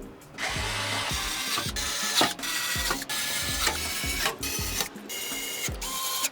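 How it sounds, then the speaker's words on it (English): P1 screwdriver driving screws to secure a motherboard during a gaming PC build, giving close, loud bursts of ratcheting, whirring turns separated by brief pauses and sharp clicks. "Using a regular P1 screwdriver, we're gonna go ahead and secure all 9 points"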